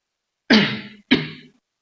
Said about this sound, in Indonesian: Maaf, Kak, sedikit batuk.